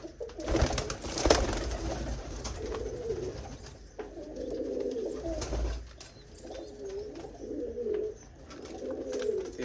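Desi pigeons coo close by, soft low rolling calls repeating every second or two over faint background noise.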